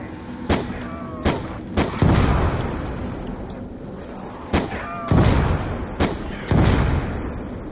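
Gunfire in a zombie survival video game, with sharp single shots aimed at the floor at irregular intervals, several close together, each loud and near with a short decaying tail, all over a soft game ambience.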